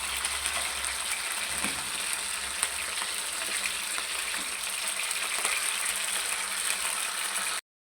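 Multani kebabs of minced meat frying in a pan over low heat, a soft, steady sizzle and crackle with faint occasional clicks, then sudden silence at the end.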